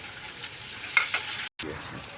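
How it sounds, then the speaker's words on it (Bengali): Garlic, onion and green chillies fry in a little oil with black cumin, a soft, close sizzle with a light stirring scrape, briefly cut off by a short silent gap. "রসুন পেঁয়াজ কাঁচামরিচ এগুলোকে হালকা তেলে ভেজে নেব"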